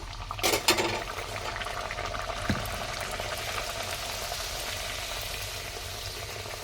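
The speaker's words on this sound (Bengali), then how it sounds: "এইভাবে এক এক করে সবগুলো ভেজে নেব" Spinach luchi frying in hot oil in a pan, with a steady bubbling sizzle throughout and a brief louder spatter near the start.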